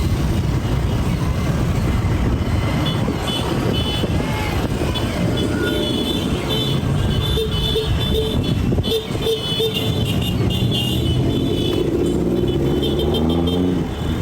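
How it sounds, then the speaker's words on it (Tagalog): Busy street traffic in the Philippines, a dense continuous roar of cars and motorcycles close by with occasional horn toots, steady and loud throughout, with faint voices underneath. "Yan ang traffic na tuloy."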